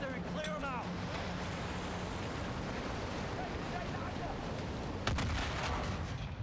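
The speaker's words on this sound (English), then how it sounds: "I guess a tank exploded" Rumbling explosions and battle noise in Call of Duty Modern Warfare 2 (2022) as a tank blows up, a dense continuous roar with sharp bursts near the start and a louder crack toward the end, with some voices underneath.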